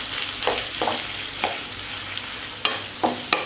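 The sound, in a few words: potato and spice mixture being stirred in pan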